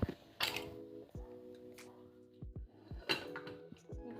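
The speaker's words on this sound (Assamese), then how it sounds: "পানী দি ঢাকনি পাত মাৰি দিম" A lid is set onto a pressure cooker holding water on a lit gas stove, in a kitchen where Assamese sekoni rice cakes are being made. Several clanks of metal on metal come close by, with short scrapes between them.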